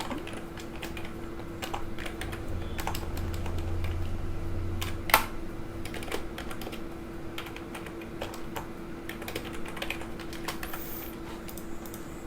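Soft, irregular keystrokes on a computer keyboard while code is typed, with occasional sharper clicks over a steady low hum, fairly close and without talk.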